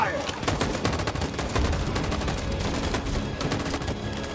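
Sustained rapid gunfire in the video game Detroit: Become Human, loud and dense bursts overlapping throughout with little pause, voices faintly mixed in.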